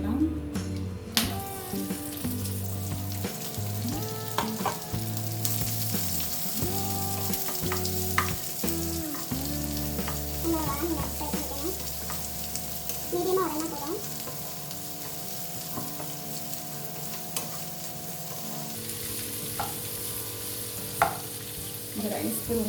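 Onions sizzle and fry in hot oil while being stirred for mutton mandhi, a steady crackling hiss broken by scraping spoon strokes and clinks against the pan, fairly quiet and close.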